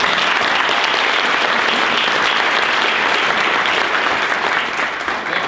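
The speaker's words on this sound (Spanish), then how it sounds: "No me quedo para recibir los aplausos" Sustained applause from an audience, dense steady clapping filling the whole stretch, tapering slightly near the end.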